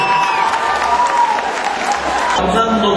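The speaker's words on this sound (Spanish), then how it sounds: "Fuerte el aplauso para todos ellos" Crowd at a bull-riding tournament applauding loudly in a sustained, dense burst of clapping, with some cheering and an announcer's voice mixed in over the noise.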